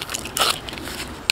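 Birch bark is peeled off a trunk after being sliced, giving a brief close crackling tear with a dry crunch near the end.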